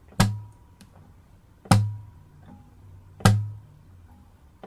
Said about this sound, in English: I'm going to do is just add a simple knock or a slap across the strings with my knuckles.